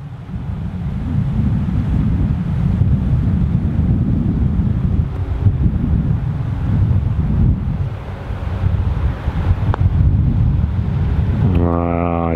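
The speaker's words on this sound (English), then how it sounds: "Wind going that way as well." Steady wind gusting over an open golf course at Dainton Park, a broad continuous low rumble of buffeting against the microphone that swells and eases, with a brief clink of a club near the end.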